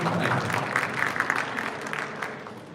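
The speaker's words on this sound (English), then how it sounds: "Can we give a round of applause for our new people who are joining us?" Applause from a town hall audience welcoming new attendees, a dense, steady patter of many hands clapping at moderate volume that fades slightly toward the end.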